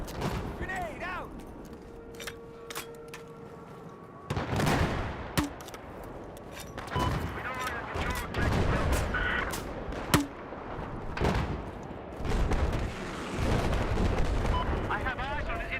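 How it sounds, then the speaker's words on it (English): A grenade blast and rolling gunfire in online Battlefield 4 combat, with several heavy booms and sharp shots over a dense battle backdrop, with talking heard among the explosions. "Grenade out."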